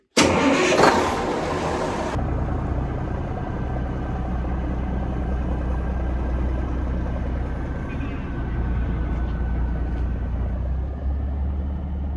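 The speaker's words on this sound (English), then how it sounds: "get the engine started, and then we're out of here" A boat engine cranks and catches with a loud burst, then settles into a steady, close, low idling rumble that continues to the end.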